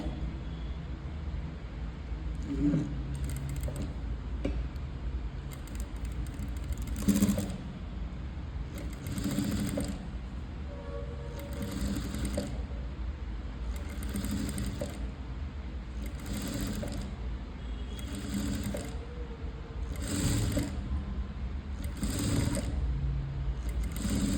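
A sewing machine stitches invisible-thread piping onto a canvas-lined blouse, running in steady close whirring bursts with brief pauses and faint handling noises between them.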